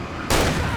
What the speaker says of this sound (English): we're gonna use our shotgun on these guys